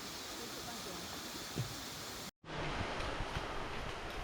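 A waterfall at the end of Gugokdam valley on Seoraksan pours in a steady broadband roar in rainy weather, cutting out briefly near the middle before resuming just as loud and constant.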